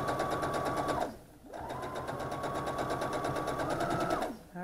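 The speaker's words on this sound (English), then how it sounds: "that's my first two rows sewn together" A sewing machine stitching quilt rows together runs in two steady, loud, close bursts of rapid whirring, with a brief pause between them and a slowdown at the end.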